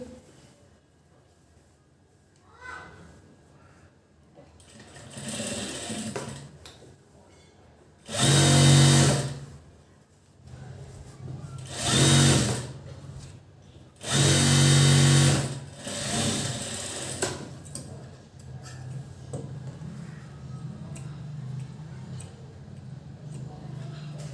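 A sewing machine stitches a dart on a size 40 princess-cut blouse in short, loud bursts of rapid mechanical whirring, three main runs separated by quieter pauses with faint handling noise.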